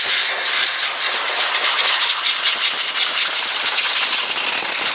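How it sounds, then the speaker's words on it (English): Compressed air jet blasting debris off the top and front of the engine on a 2010-2013 Ford Transit Connect, a loud, steady close hiss held throughout with no speech. "Use some compressed air to clean any debris from along the top and front of your engine."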